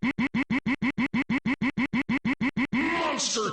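A stream alert for 20 gifted subs: a short vocal-like blip repeats rapidly about fifteen times in a fast, even stutter, then gives way to a longer swirling echoing tail, loud and close.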